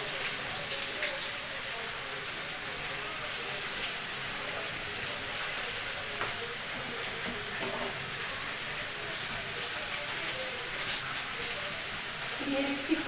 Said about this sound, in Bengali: এত বৃষ্টি!